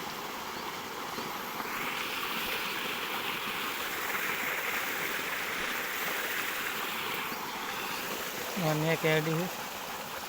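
Water flowing from a tank across a mustard field, a continuous even rushing wash heard close by, with a short spoken phrase near the end.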